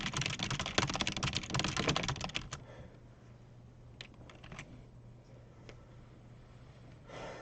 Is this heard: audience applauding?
no